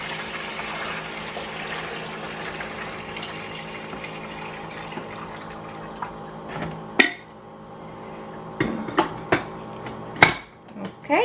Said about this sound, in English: I have in here almost 12 cups of water and I'm gonna pour